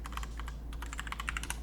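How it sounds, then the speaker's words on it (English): Rapid, loud clatter of keys on a computer keyboard, bursts of quick strokes with a brief pause in the middle, close and alone with no talking. "Apologies for loud typing."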